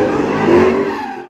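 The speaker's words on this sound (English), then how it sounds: "Burning rubbers, screeching tires, or doing donuts, whatever you want to call it, it's happening here" Car tires screech in a sustained squeal as a car does donuts at a car meet, loud and continuous with engine roar beneath, cutting off abruptly at the end.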